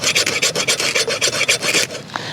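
A Kabar Zomstro knife's rough coating is scraped in quick, rhythmic rasping strokes, about a dozen loud, close, gritty passes before it stops, with no talking.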